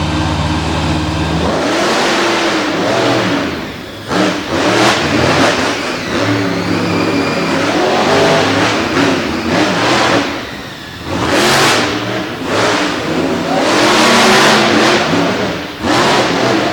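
Drag race cars in a staging lane rumble loudly, then blast into repeated roaring revs and full-throttle runs that stay intense and near throughout.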